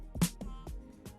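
Amapiano-style beat snare sample: several short, crisp hits in an uneven pattern, each a sharp broadband crack with a quick decay, loud and close with no talking.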